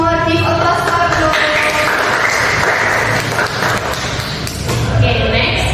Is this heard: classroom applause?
yes